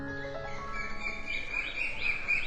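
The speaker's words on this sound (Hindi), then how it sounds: "अगली सुबह खिड़की के बाहर से आ रही चिड़ियों की आवाजों से आंखें खुली" Small birds chirp and tweet in repeated short calls outside a window in the morning, fairly faint against a steady background hum with no talking.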